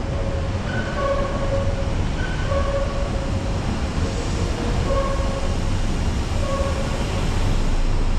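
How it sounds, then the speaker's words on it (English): A Waterloo and City line underground train runs between Waterloo and Bank, giving a constant loud rumble from inside the carriage with faint repeated tonal whines over the roar. "This is our Waterloo and City line train."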